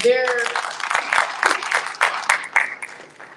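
Audience applause at a live panel discussion, a dense broadband patter of many hands building and sustaining for a few seconds, with a voice or cheer rising briefly at the start.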